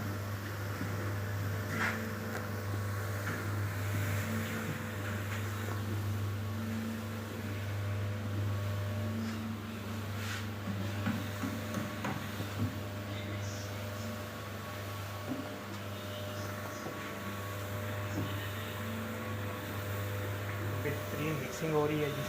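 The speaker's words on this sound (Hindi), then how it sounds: "मुकम्मल इंग्रेडिएंट्स होने के बाद मिक्सर को ऑन कर देंगे।" An electric mixer runs steadily while silicic acid and other ingredients are blended into homemade washing powder, giving a continuous loud motor hum and drone with no pauses throughout.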